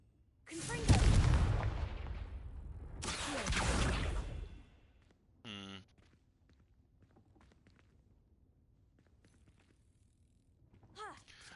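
A Confringo blasting spell fires in the Hogwarts Legacy video game, with two loud, sustained booming bursts in close succession, followed by a short sharp crackle and a faint later echo.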